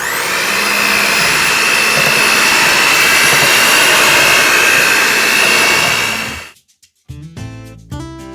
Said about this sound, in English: take my mixer here and I'm gonna mix it on a low speed